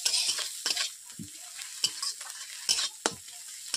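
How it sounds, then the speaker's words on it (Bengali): Onions and ginger frying in a pan, with bursts of spatula stirring and scraping over a soft sizzle, up close and in an uneven rhythm, with no voices. "পেঁয়াজগুলোকে আধো আধোভাবে ভাজবো"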